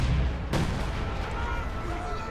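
A single heavy ISU-152 artillery shot in a video game, a sharp loud boom followed by a long rumbling decay under faint background noise.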